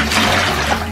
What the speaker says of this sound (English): Next up, add the water.